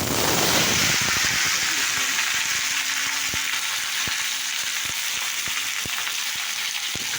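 Potatoes and cauliflower fry in hot oil with panch phoron and bay leaf, giving a loud, continuous sizzle that starts with a burst, plus a few light clicks of a utensil against the pan.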